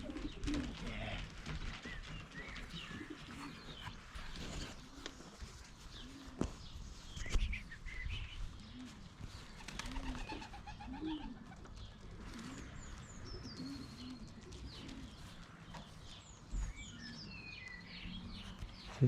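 Young pigeons in a loft coo softly and repeatedly, a steady low burbling chorus close by, with occasional chirps from other birds and faint background rustles throughout.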